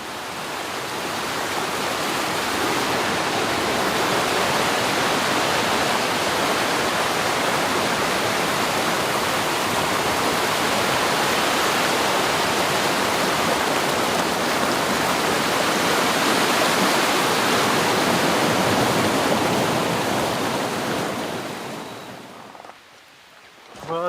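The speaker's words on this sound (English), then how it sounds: "it sounds like there could be a good waterfall" A wilderness waterfall along a steep trail in the Quetico, heard as a steady, loud, broadband rush of falling water that holds constant for over twenty seconds before briefly dipping near the end.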